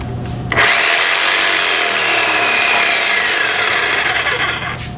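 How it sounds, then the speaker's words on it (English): A jigsaw cuts a slot in a wooden board, starting abruptly and buzzing continuously with a loud, rasping whine for several seconds, close up and without pause. "I have cut out my slot And it's a little bit rough because I cut it with a jigsaw."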